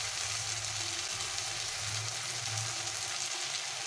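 Masala of turmeric, salt, chilli powder and cumin powder frying in a pan for a mutton fat curry with potatoes, giving a steady, even sizzle that holds throughout with a low hum underneath.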